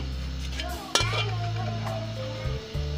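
Chopped onions dropped into a tablespoon of hot oil: a sharp clatter at the drop, then a steady close sizzle with a low hum running underneath, no talk.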